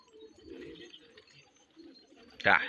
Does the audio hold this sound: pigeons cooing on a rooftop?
yes